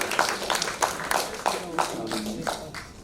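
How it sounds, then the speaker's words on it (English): An audience at an International Women's Day celebration gives a round of applause, loud uneven claps rising and fading in a short burst, with a voice speaking briefly underneath. "A round of applause for him, please."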